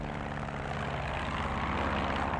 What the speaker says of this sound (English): I hear planes in Duck Simulator.